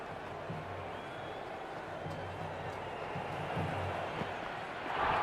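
A stadium crowd in an India vs Pakistan T20 cricket video game keeps up a steady, dense roar throughout, swelling louder near the end.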